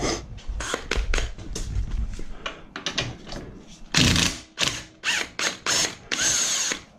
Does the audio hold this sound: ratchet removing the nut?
yes